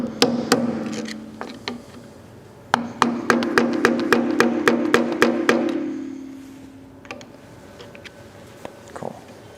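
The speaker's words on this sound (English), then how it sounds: "I like to use my hammer and my flathead just to kind of get it started to lock the cotter pin into position" A hammer drives a flathead screwdriver to bend a boat propeller's cotter pin into place. Two close bursts of sharp, rhythmic metallic taps ring out, the second a longer run of evenly spaced strikes, then a few scattered taps.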